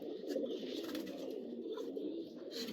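Low, soft cooing from a female pigeon, a steady murmuring rumble close by with faint higher chirps mixed in.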